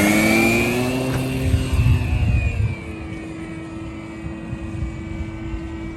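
A repaired RC plane taking off, its electric motor and propeller giving a loud, rising whine that fades as it climbs away and gets quieter, with wind rumble underneath.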